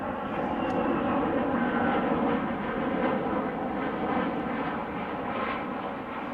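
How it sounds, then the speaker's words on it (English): A jet aircraft passes overhead in a wilderness survival setting, giving a steady, loud broadband roar that holds evenly throughout without pause. "Pardon the jet."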